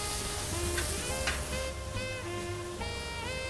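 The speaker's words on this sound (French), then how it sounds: "On tourne, petite coloration sur le magret. Vous voyez, ça crache quand même pas mal de gras au final." Duck breast fries in a pan with cep mushrooms and onions, giving a dense, steady sizzle and spitting fat up close, with light stirring and faint clinks.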